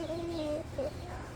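A hen clucks in a farmyard flock: two short, quiet, tonal calls separated by a brief pause, heard close but faint.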